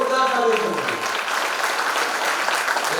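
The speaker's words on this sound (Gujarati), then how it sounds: "તમારા પોતાના બાળકો હોય ત્યારે તાળીઓ આમ જોરદાર તાળીઓ કરવી" Audience applause at a school annual function for pre-primary children, a dense, steady patter of many hands that builds and carries through, with a voice speaking over the start.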